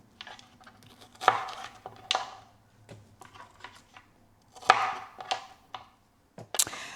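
A knife chops green onions on a cutting board in a home kitchen, giving scattered crisp taps and clustered cuts at an irregular rhythm, close and fairly quiet.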